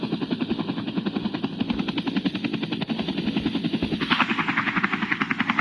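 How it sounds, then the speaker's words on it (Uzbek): A helicopter in a police video game thunders steadily, its rotor chopping in a fast, even pulse with a droning engine underneath, loud and continuous throughout. "vertolyotdan juda qattiq ovoz chiqaryapti"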